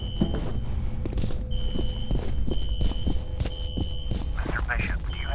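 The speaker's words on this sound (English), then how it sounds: "A fire alarm. It was triggered at a security office on that floor." A fire alarm rings continuously in the video game F.E.A.R., a steady high electronic tone over a low throbbing hum and rhythmic thumps, with no one talking.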